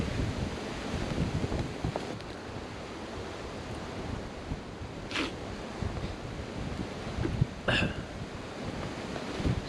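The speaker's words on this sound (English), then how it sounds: "because it is so windy" Strong wind blows around a camp in an old castle, buffeting the microphone with a continuous roaring rush and occasional gusty bursts and rattles, with no talk.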